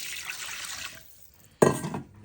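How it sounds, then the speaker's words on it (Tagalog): Water is poured into a pot of simmering mung bean stew, giving a short soft splash and a brief bright gurgle against quiet background noise. "Lagyan natin konting tubig."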